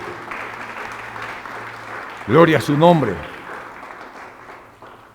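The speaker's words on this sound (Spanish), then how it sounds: "Démosle un aplauso al Señor, por favor, esta mañana." A church congregation applauding during a service gives a steady wash of clapping throughout, with a voice speaking loudly over it midway.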